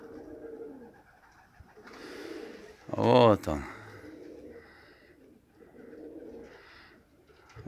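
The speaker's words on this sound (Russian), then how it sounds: "Вот люблю этого голубенка." A single pigeon coo rises briefly, close and fairly loud, with people talking softly before and after it.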